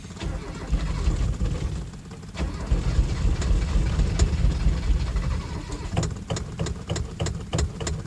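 A Mazda B2200 extended cab truck engine runs for the first time after a month idle, with a steady, rough, low rumble up close that is later joined by rapid ticking or knocking pulses.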